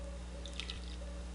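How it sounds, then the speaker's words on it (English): Blue dye drips from lifted wool back into a dye bath, a few soft, faint liquid drips over a low steady background hum, with no talking. "when we pull it out, we're letting the dye drip back off."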